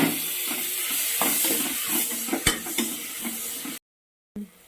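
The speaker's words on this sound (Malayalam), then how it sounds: "നമ്മുടെ സവാള വയണ്ട് വന്നിട്ടുണ്ട്. ഇനി നമ്മൾ അതിനകത്ത് തക്കാളിക്ക് ഇടുവാണ്." Tomatoes go into a pan of frying onions, with a steady hiss and sizzle, occasional stirring clicks and scraping, then a brief silence before the sizzle returns.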